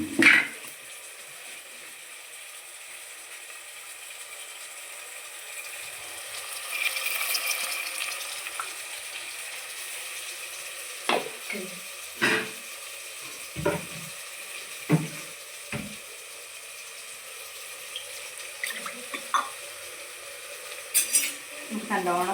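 A tomato, green chili and spice mixture sizzles softly in a pan, and a spoon scrapes and clinks against the metal at irregular moments while it is stirred and sautéed, close up with no voice.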